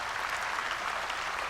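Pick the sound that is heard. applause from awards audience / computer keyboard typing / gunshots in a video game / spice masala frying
applause from awards audience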